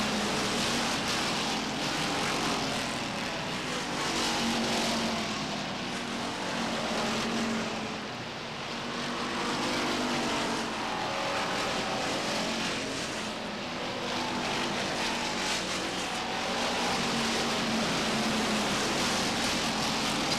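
Race cars roar steadily around Beech Ridge Motor Speedway during an ACT stock car race, a continuous loud engine drone that swells and fades as the pack passes, with no talking.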